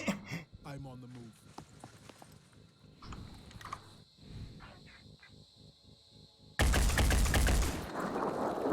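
Gunfire in the turn-based strategy game Phoenix Point, a volley of rapid shots ending in a loud sustained burst, with people talking over earlier quieter effects.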